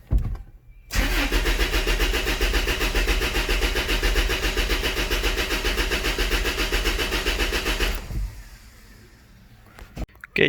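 A car engine with one ignition coil disconnected cranks steadily for about seven seconds without starting, its rapid rhythmic starter chug loud and close, then cuts off into quiet with a brief clunk at the end.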